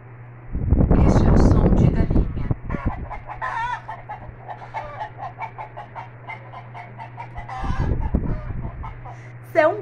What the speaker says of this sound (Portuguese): Siri, faz um barulho de galinha.